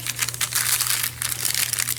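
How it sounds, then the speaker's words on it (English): Sticky note paper crinkles and crumples close up in short, crisp bursts of rustling, with a brief pause midway before the crinkling resumes, alone without talk over a faint steady hum. "let me grab a piece of paper"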